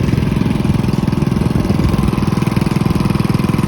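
A Honda engine fitted in a Farmall tractor runs steadily in reverse, a loud, close, fast-pulsing putter with an even rhythm throughout and no voices over it.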